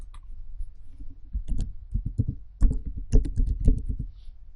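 Close clicking keystrokes on a computer keyboard, first sparse and then in quick irregular bursts, with no one talking.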